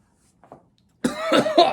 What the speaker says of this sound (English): The vapor will cause you to cough when it goes down weird because of spice.